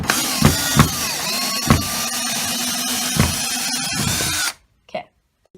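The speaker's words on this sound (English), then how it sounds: "Make sure your drill is going in reverse and use short, slow bursts." A power drill running in reverse to back out a screw whines steadily close by for about four and a half seconds, punctuated by several short grinding bursts, then cuts off into near silence with one faint knock.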